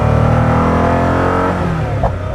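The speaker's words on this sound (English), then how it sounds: "It's amazing how much sound you could unleash in this car." A Koenigsegg Agera RS1 engine revs hard while driving, a loud, continuous, deep mechanical roar heard from inside the car, easing slightly near the end without any talk.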